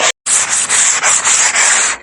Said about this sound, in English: I'm just gonna be wiping the frame